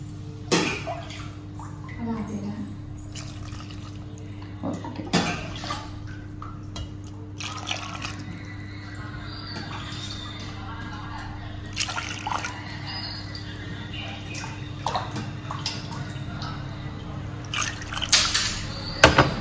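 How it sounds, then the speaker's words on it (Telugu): Water is poured from a cup into a bowl of bombay rava for rava dosa batter, in repeated splashy pours and trickles close by, while a person talks over them. "1 కప్పు రవ్వకి 4 కప్పులు వాటర్ వేసుకోవాలండి"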